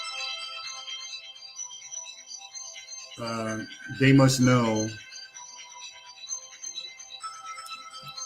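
A mobile phone ringtone plays on a radio show, a repeating electronic melody running throughout, with a voice talking briefly over it in the middle.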